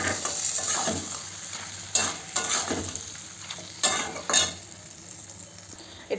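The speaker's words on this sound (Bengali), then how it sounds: "একটু হালকা করে নেড়ে দেবো" Niramish labra, a Bengali mixed vegetable curry, being stirred in a pan, with scraping strokes and soft sizzling that rise in a few louder bursts over a steady cooking hiss, close and with no talk.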